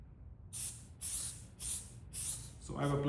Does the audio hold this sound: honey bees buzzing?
no